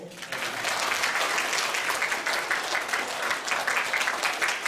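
A church congregation at a Sunday worship service applauds award and scholarship recipients. The clapping is warm and steady, swelling quickly and holding evenly throughout.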